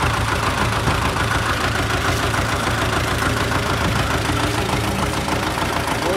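A tractor spreading de-icing reagent outdoors runs its engine with a steady, rough, knocking idle rumble, constant and fairly close throughout with no voices.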